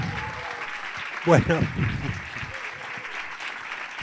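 A studio audience on a Spanish-language television program claps in a sustained round of applause, with a voice speaking briefly over it partway through.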